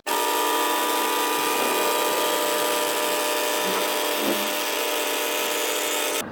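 Air rushing out of a large inflatable buoy as it deflates, a steady loud hiss lasting several seconds with no voices.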